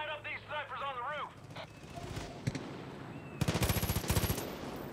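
Automatic gunfire aimed at snipers on a rooftop in Far Cry 5, a rapid burst of shots arriving late after a voice and assorted game sounds, fairly faint overall.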